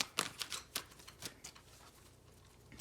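Tarot cards handled and drawn from a deck, several quick soft flicks and riffles close by, fading to quiet, with no talking.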